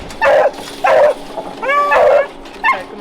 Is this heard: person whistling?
no